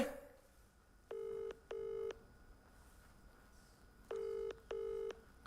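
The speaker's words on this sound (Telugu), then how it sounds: "ఫోన్ రింగ్ అవుతుంది" A telephone call rings out on the line as a ringback tone: two pairs of steady double beeps separated by a pause, clear over a faint, hissy background with no talking.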